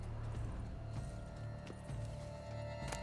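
Horse hooves clip-clop faintly in The Witcher 3: Wild Hunt, a soft steady patter with a few sharper knocks, set under a low, constant background hum.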